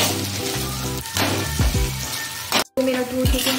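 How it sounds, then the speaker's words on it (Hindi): Noodles with vegetables sizzle and fry in a pan over high flame, a steady close crackle with clinks of stirring and a brief cut near the end. "अभी तो मैं डाली इसको दो मिनट लगेगा हाई फ्लेम में भूनने पे"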